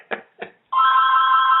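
A telephone rings in a radio studio with one long, steady electronic trill that starts abruptly and carries on alone and loud, right after two short knocks.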